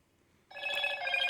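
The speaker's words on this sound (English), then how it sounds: "this is how the phone boots up." Startup tone of a Motorola G8 Plus smartphone on its very first boot, a single bright melodic chime that starts abruptly after a brief silence and holds steady, close and clear with no talking.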